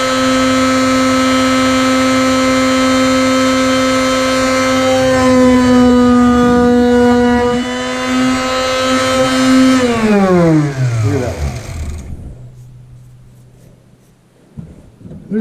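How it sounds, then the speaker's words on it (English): A sander briefly resurfacing Tektro hydraulic disc brake pads runs as a loud, steady motor whine with strong harmonics, then spins down with a falling pitch and stops, leaving near silence and a faint knock at the end. "now another microsecond blast on the sander, and I'll have the inside the same as the outside."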